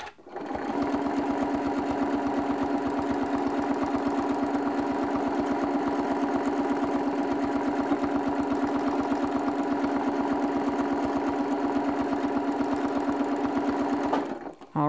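A sewing machine stitches a free motion quilting pattern of geometric squares and circles, its needle chattering in a fast, steady, unbroken run at close range for about fifteen seconds.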